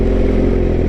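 A motorcycle engine runs loud and close in a brief rough burst of mid-pitched engine roar, no voices over it.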